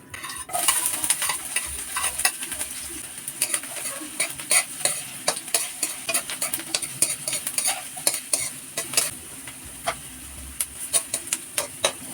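Onions frying in a pan for bangus steak, a continuous close sizzle broken by frequent rhythmic clinks and scrapes of a utensil stirring against the pan.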